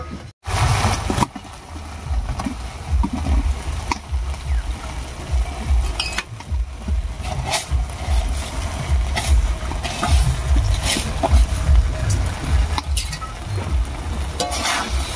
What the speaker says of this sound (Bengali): এবারে ভেজে রাখা আলু আর চালটা দিয়ে দিচ্ছি